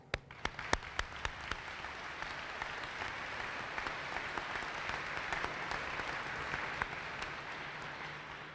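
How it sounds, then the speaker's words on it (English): An audience at a high school commencement ceremony gives the teaching staff a round of applause, steady dense clapping from a large hall with a few sharp nearby claps at the start. "I would like to invite everyone to offer a round of applause for the teaching staff of Merrill High School."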